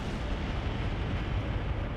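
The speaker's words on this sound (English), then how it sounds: "sound of a powerful explosion reaches all the way out to where we are, and the ground shakes a little." A powerful bomb explosion in the video game Code: Realize – Guardian of Rebirth, heard as a steady, dense, loud rumbling roar with no distinct onset, sustained throughout.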